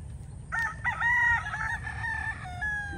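A young gamefowl stag at a gamefarm crows once, close and clear, a drawn-out wavering call of about two seconds over low background rumble.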